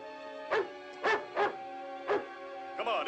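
A dog gives four or five sharp, separate barks at close range over a quiet background, with a short yip near the end.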